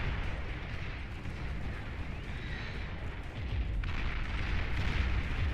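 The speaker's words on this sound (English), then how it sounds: "You just see how quickly the volley of sniper bots here kill Shivas almost instantly." Sniper bots fire a volley in the strategy game Beyond All Reason, giving dense, continuous booming gunfire and explosions that run through the whole stretch and swell louder near the end, with no voices.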